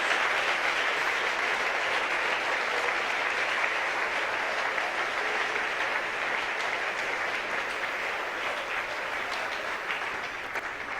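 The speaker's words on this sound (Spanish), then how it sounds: "Dale un aplauso al nombre del Señor Jesús" A church congregation applauds in praise of Jesus during a sermon, steady dense clapping filling the room at close range and holding evenly throughout with no voices over it.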